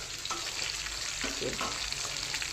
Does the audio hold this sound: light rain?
no